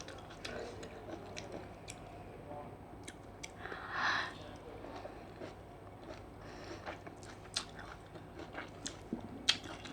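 Someone chewing spicy pomelo salad close up, with wet squishy bites and sharp clicking crunches scattered irregularly throughout, including a louder mouthful midway, against a quiet background.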